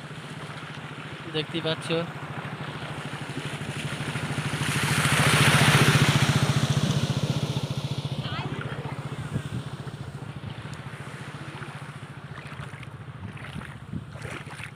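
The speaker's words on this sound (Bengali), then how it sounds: "বাইক আসছে একটা" A motorcycle pushes through floodwater on a village road, its engine swelling louder as it nears mid-way, then fading under steady wind noise while someone talks over it.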